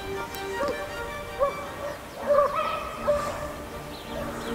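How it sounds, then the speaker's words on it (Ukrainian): Hunting hounds bay and yelp on the trail, several drawn-out howls and yips at middle distance over a constant outdoor background. "Їх завивання настільки сильно звучало, що аж вібрації від їх голосу били по нашим грудям"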